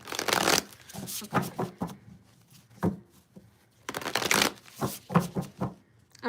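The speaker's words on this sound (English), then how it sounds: "I thought these cards were going to be harder to shuffle" Tarot cards are riffled and shuffled in irregular bursts of papery flutter and slaps, close up, with quiet gaps between and a brief spoken word.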